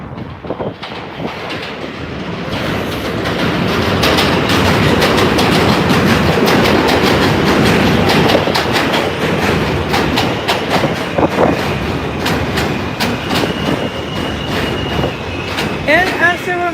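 An R160 subway train on the F line passes near Avenue X station, rising from quiet to a loud rumbling roar with rhythmic clickety-clack wheel beats and a brief high squeal, then easing off slightly as it continues by.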